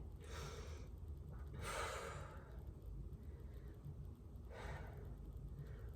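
Slow, deep breaths during a leg stretch, with long airy inhales and exhales spaced a few seconds apart, soft and close over a low background hum.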